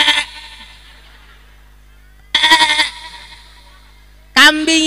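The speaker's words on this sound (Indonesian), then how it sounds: "Kambing yang bersuara atas" A goat bleats loudly and close in two strong, wavering calls separated by a pause, following a brief voice at the start.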